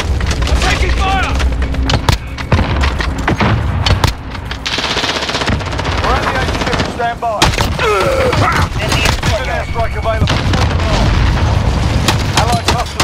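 Call of Duty Modern Warfare multiplayer match: loud rapid machine-gun bursts and booming explosions in dense succession, with shouted in-game voice callouts over the battle.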